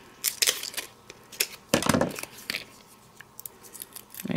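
Scissors snip quickly through a die-cut paper piece for a pop-up 3D vignette card, several close, crisp cuts in irregular bursts with no talk.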